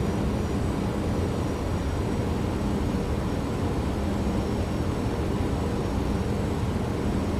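Simulated Boeing 737-600 jet engines roar steadily during a low-altitude go-around in a flight simulator, a loud, dense, unbroken rumble and hiss with no pauses.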